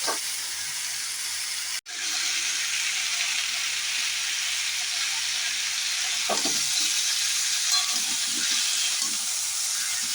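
Pointed gourd sizzles and fries steadily in a pan, a constant crackling hiss with a brief clatter near the start.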